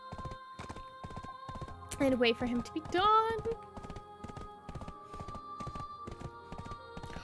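Horse hooves clip-clop in a steady, rapid rhythm in the online game Black Desert Online, with a loud whinny midway and a person talking over part of it.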